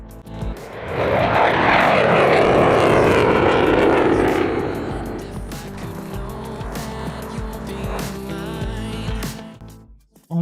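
Vintage propeller warbirds such as a Mustang, Thunderbolt and Wildcat fly past in a line at the Oshkosh airshow. A loud rising engine roar peaks over the first few seconds, then fades into a rumble as the planes pass one after another.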